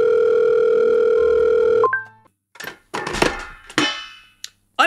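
A phone's steady dial tone sounds loud and continuous for about two seconds from a pocket-dialed call, then cuts off, followed by a few short clattering knocks and rustles.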